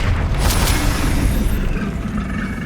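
A loud, sustained fiery blast from the Confringo spell in Hogwarts Legacy, a rumbling explosion with heavy low-end boom that stays dense and roaring throughout.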